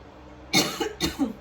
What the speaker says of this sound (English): every time I do the readings lately, I start to cough.